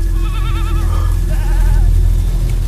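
Several goats bleat in wavering, overlapping cries over a loud, constant low rumble.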